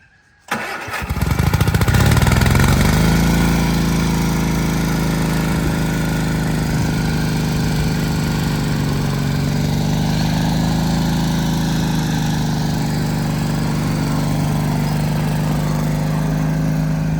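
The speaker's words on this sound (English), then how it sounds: "So we're just going to get in the middle where it's the thickest, mow a little bit and see how it looks" A lawn mower engine starts abruptly and settles into a steady, loud, close drone, running continuously as it prepares to cut thick pasture grass.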